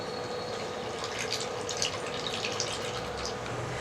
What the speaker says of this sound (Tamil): அடுத்து தண்ணி ஊற்றிக்கலாம்.